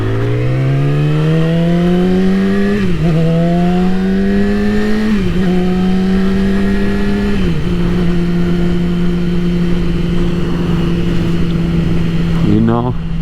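A Yamaha R6 sport motorcycle engine drones loudly while ridden, rising through several revs with brief dips at gear shifts, a steady high-pitched whine close by that drops sharply near the end.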